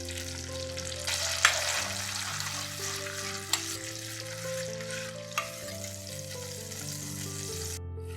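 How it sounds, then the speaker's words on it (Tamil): Onions sizzle in a pan with tamarind water while a black-eyed pea curry is cooked, giving a steady close hiss of frying with a few stirring knocks, under background music and without talk. "நல்லா வதங்கின உடனே இப்போ கரைச்சி வச்சுருக்கிற புளியும் நம்ம சேர்த்து நல்லா வதக்கிக்கலாம்."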